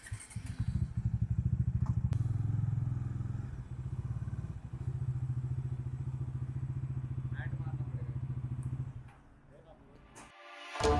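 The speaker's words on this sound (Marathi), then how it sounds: "तुझी बाईक डायरेक्ट वरती घेऊन बोलतोय" A motorcycle engine runs with a steady low throb that revs and holds for several seconds, then drops off near the end, with some clatter.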